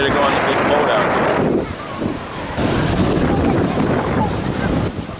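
Loud rushing water and wind buffeting the microphone as a boat moves through choppy waves, constant roar with a brief dip midway.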